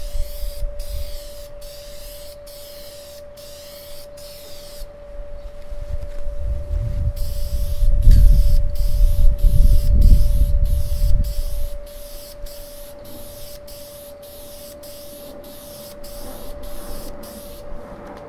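Aerosol spray paint can coating a Weber Q grill lid in light passes, a steady close hiss that swells and fades over several sweeps, with a faint constant whine running underneath.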